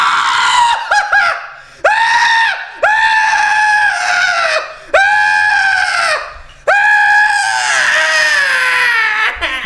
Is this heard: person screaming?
yes